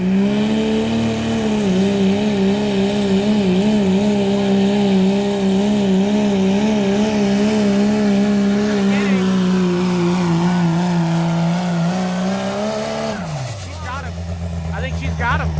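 A diesel farm truck at a truck pull in Nordheim, Texas, roaring loud and steady under load for about thirteen seconds, then its engine note drops sharply as it winds down, with a voice talking over it.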